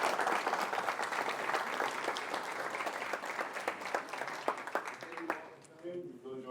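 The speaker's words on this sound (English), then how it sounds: "Give it a round of applause." An audience at a campus seminar breaks into warm, dense applause, a sustained wash of many hands clapping that tapers off near the end as a voice begins speaking.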